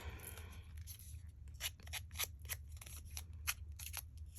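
Soft, close scissor snips and scratchy scraping as scissors rough up paper edges, a quick irregular series over a low steady hum.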